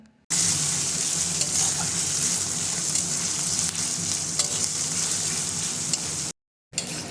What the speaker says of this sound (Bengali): তো আমি এখন মাংসের পেঁয়াজটা আর কি ভেজে নিচ্ছি